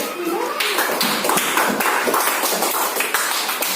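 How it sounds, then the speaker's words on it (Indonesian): Group applause in an Indonesian teacher-training classroom, a dense steady clatter of many hands clapping loud and close for the full stretch, with voices murmuring underneath. "Tepuk tangan untuk kelompok 1 dulu."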